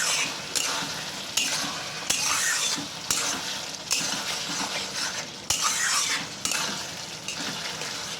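Prawn curry is stirred in a sizzling pan, each spoon stroke scraping rhythmically over a continuous frying hiss, close and fairly loud, with no voices.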